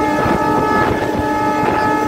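A passenger commuter train on the new Khulna–Mongla line runs at speed, its loud sustained horn blaring over a steady rumble of wheels and carriages, close and continuous throughout.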